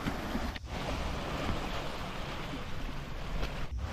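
Steady broadband wash of surf rolling onto Elephant Beach in the Andaman Islands, with gusty wind noise buffeting the microphone throughout.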